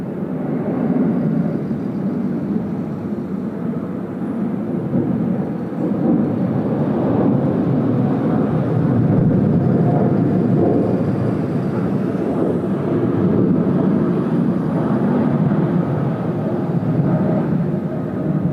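A Boeing 757 rolls down the runway for takeoff at Sydney Airport on a windy night, a loud continuous jet roar that swells and holds steady from a distance, with wind rumble mixed in.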